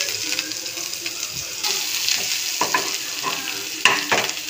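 Chopped onion sizzling in the hot oil left from frying chicken balls, with continuous crackling fry noise broken by repeated scraping stirs of a utensil against the pan, close and fairly loud.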